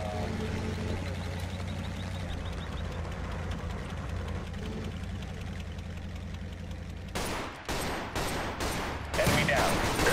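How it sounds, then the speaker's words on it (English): Gunfire crackles in the video game Total Conflict Resistance, layered over a low engine-like drone, then sharper, louder bursts of shots break through near the end. "I hear gunfire, but I don't see bad guys."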